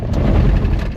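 A truck fitted with Timbren SES helper springs rolls over a gravel washboard road at about 45 mph, giving a loud, continuous, rough low rumble of tires and suspension throughout.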